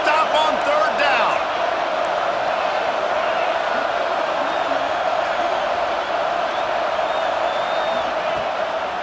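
A dense, steady roar from a huge stadium crowd in a college football video game, Oklahoma against Auburn, building on third down, loud and sustained with whoops rising from the mass of voices.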